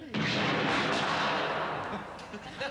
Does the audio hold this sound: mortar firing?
yes